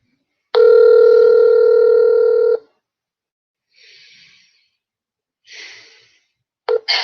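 A telephone dial tone sounds steadily for about two seconds, loud and close, then cuts off, followed by faint breathy rustles and a brief click near the end.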